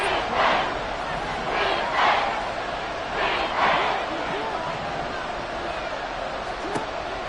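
A home crowd at a Kansas City football stadium roars during a third-and-goal play at the one-yard line, a loud sustained wash of cheering with surging swells, under a commentator's talk.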